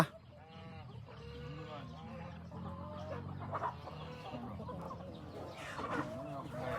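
Chickens on a Thai home farm cluck and call in repeated short bursts, moderately close over a steady rural background with faint murmuring.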